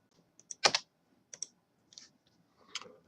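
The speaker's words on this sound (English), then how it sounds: "We'll type in the username and password that we just created" Typing on a computer keyboard while a username and password are entered, a few soft, close key clicks in small irregular clusters separated by quiet pauses.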